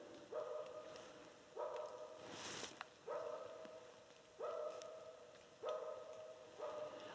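A dog barks repeatedly in short, evenly spaced bursts, moderately distant and faint, with a quiet hiss in the background, during a deer bowhunt.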